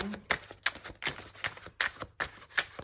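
Tarot cards being shuffled by hand, a steady run of crisp riffling bursts roughly every third of a second, close and fairly loud, with faint background murmur.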